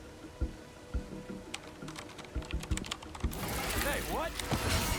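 Quick, light keystrokes tap on a laptop keyboard inside the Spider-Man 2 video game, a close run of clicks for a few seconds before louder game sounds take over.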